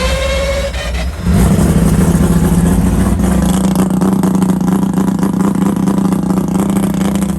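A three-rotor Mazda FC engine on a mainline dyno cranks briefly, then fires and holds a loud, steady, buzzing rotary drone with a rough clattering edge that fills the remaining seconds.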